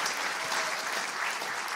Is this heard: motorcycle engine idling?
no